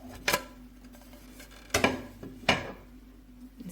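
Spinach bread ingredients being mixed in a bowl, heard as three sharp clinks and knocks of a utensil against the bowl, spaced apart over a low steady background hum.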